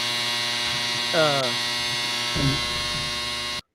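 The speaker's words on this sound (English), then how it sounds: "Man, that's my dryer." A home clothes dryer runs nearby and leaks into a microphone as a steady, loud electrical hum. Two brief voice-like swoops rise over the hum before it cuts off abruptly.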